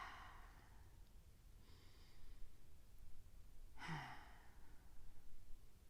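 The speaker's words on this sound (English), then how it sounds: "Let's take 2 deep breaths." Slow, deep breaths during a quiet wrist stretch. Two long, soft airy exhales come a couple of seconds apart, faint and close, with no talking.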